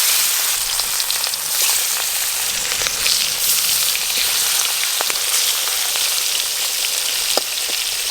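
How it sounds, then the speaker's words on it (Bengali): Fish pieces, rupchanda seasoned with salt and turmeric, frying in hot oil: a loud, dense sizzle with scattered sharp spits and pops, continuous and close for the whole stretch, no talking. "তেল গরম হয়ে গেছে, মাছ ভেজে নেব।"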